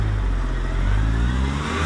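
A Suzuki Cappuccino's small engine hums and revs steadily on a test drive, loud and close with a continuous low drone and no voices.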